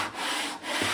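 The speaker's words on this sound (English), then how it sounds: "And I suppose just the sand really." Close, steady rasping of sandpaper rubbed over a wooden urn, a continuous gritty hiss with two brief dips in the stroke over about a second.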